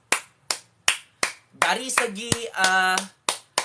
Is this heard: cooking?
no